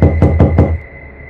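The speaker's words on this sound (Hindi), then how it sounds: "मेरे दरवाजे पर दस्तक हुई।" Three sharp knocks on a door late at night, evenly spaced and loud, followed by a short quiet tail with a steady tone underneath.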